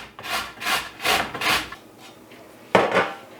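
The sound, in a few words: grating a carrot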